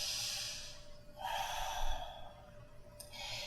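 Soft audible breaths during a children's yoga side stretch against a wall: a quiet exhale, a fuller breath in the middle, then a faint breathy sigh, close and alone.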